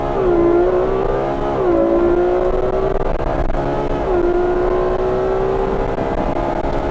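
A Ferrari V12 car launches hard, its high-revving engine climbing in loud wails through several quick upshifts, each marked by a brief dip before the pitch rises again.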